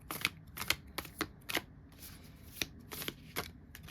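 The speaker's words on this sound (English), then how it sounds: "But you get to see how I shuffle." Oracle cards shuffled by hand, a series of quick crisp riffling bursts in irregular rhythm, close and quiet.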